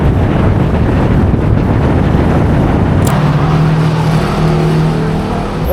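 Outdoor wind in Bangkok roars as steady, loud buffeting against the microphone, blended with traffic noise and a faint engine hum in the latter half.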